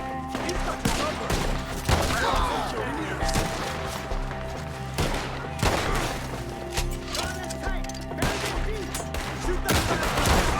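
Gunfire in a Red Dead Redemption 2 shootout: repeated loud close shots and rapid volleys with sharp cracks and echoing tails over a layered game soundtrack, with voices shouting through it.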